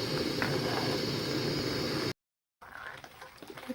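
Rice and bay leaf stirred in a pot of boiling milk for payesh: a steady bubbling hiss with soft scraping, cut by a brief silence, then quieter simmering and light stirring sounds.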